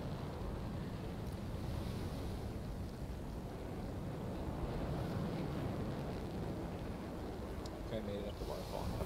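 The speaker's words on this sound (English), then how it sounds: "We're all trying to fly up the waterfalls." Waterfall rushing in the video game Anthem, a steady broad roar of falling water that holds throughout at moderate loudness.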